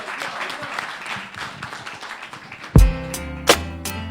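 A live music event crowd applauds a performer with a soft, scattered patter of clapping. Sharp, ringing electronic hits then cut in near the end.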